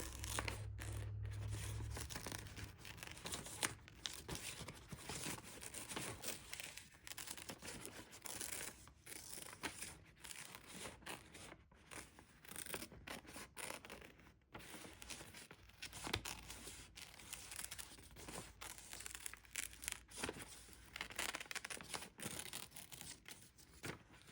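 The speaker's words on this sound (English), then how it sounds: "So the first thing we need to do is just cut our witch out." Scissors snip and rustle through paper, cutting out a witch image with a long run of close, irregular crisp snips and crinkles.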